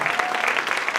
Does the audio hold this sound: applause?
yes